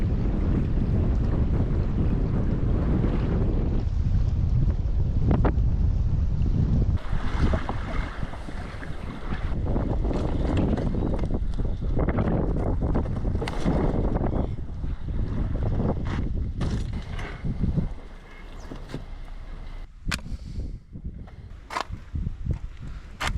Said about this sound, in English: Got extremely windy towards the end there, but the kayak's all packed up.